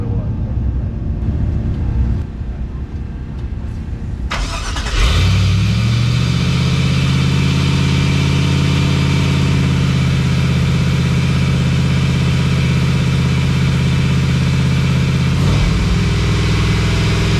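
Chevrolet El Camino with a voltage issue, its engine catching after a brief quieter stretch and then running loud and close with a high, steady rev, people talking.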